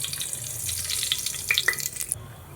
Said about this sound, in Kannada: ನಾನು ಸ್ವಲ್ಪ ಸಾಸಿವೆ ಹಾಕ್ಕೊತಾ ಇದ್ದೀನಿ.